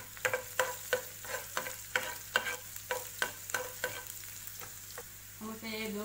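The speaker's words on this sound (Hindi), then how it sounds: "एक गार्लिक डालेंगे थोड़ा सा जिंजर डालेंगे। इसको हमें अच्छे से सॉटे करना है।" Garlic and ginger are sautéed for a vegetable Manchurian gravy, a soft continuous sizzle punctuated by about a dozen regular spatula scrapes against the pan.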